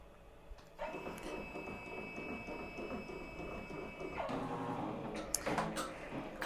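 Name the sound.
Ricoma embroidery machine stitching a baby blanket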